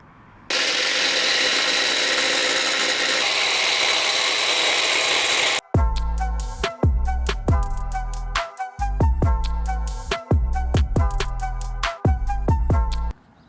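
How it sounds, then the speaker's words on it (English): An angle grinder cuts into a steel truck frame cross member on a 12-valve Cummins Ramcharger, a loud, steady, harsh whine for about five seconds, then a rapid run of ringing metallic clanks and knocks. "I've got my grinder set up right here and I'm gonna get to cutting."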